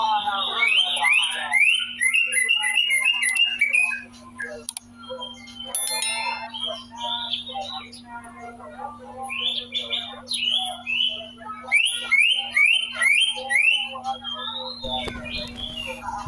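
A green leafbird, or cucak ijo, sings in an open-air free-flight setting with repeated bright chirping phrases and whistled runs that pause briefly midway and then resume, over a steady low hum.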